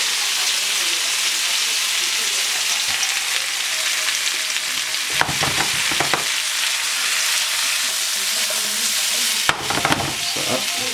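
Artichokes crisping in a hot pan with herbs and garlic give a steady, close sizzle that runs the whole time, with a few brief clatters of stirring breaking through.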